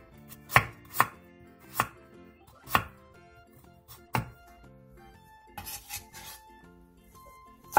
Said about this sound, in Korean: 무 5cm 두께 한 토막을 먹기 좋은 크기로 잘라주세요.